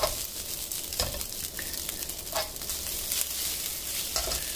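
Rice stir-frying in a home pan over gentle heat, a steady bright sizzle broken by a few scraping flips of the spatula, close and continuous with no voices.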